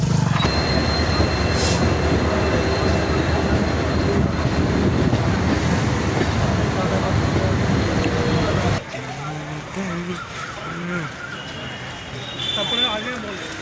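A train rumbles steadily along the rails from Budge Budge toward Tollygunge, Kolkata, with loud broadband noise for several seconds, then the sound drops and people talk nearby.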